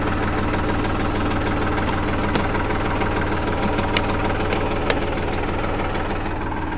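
A Massey Ferguson 254 Dynatrack Smart tractor engine idles close by, with a loud, steady diesel knock and a few sharp clicks over its constant drone.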